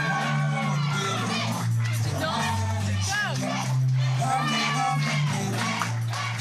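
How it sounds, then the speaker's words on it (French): Wedding guests cheer, whoop and shout in a lively crowd, with children's voices among them, loud and close for several seconds, while an amplified host voice and music run underneath. "Chers invités, je vous demande un tonnerre d'applaudissements pour Jessie et Domi."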